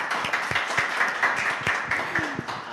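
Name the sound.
audience applause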